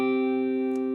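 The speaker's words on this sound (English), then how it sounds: "That's the sound of a power chord, played low on." A low power chord of C with its fifth G, played on a stringed instrument, rings out as a single sustained, steady chord with rich stacked harmonics and no talking.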